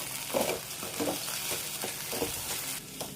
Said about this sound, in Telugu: ఈ పల్లీలకి అలాగే బెండకాయ ముక్కలకి పట్టేంత వరకు ఒక 2 మినిట్స్ పాటు దీన్ని ఇలాగా ఫ్రై చేసేసుకోండి